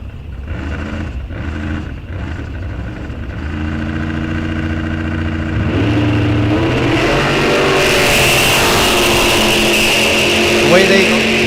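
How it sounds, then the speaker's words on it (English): Ford and Chevy bracket drag race cars launch from the starting line at Rock Falls Raceway. Engines rumble and rev loudly, then build into a sustained full-throttle roar, with an announcer talking over the racket. "Ford versus Chevy on the starting line right now"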